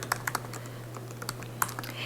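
Computer keyboard typing while entering personal details into TaxAct tax software: a sparse run of light, quick key clicks in irregular bursts, close and fairly quiet over a steady low hum.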